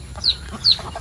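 Backyard chicken coop hens let out two short, close clucking calls over low background noise, with no speech.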